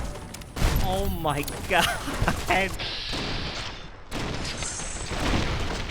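Gunfire erupts in the game Fallout New Vegas, with sharp shots and loud bursts over rumbling game audio while a character voice exclaims in alarm.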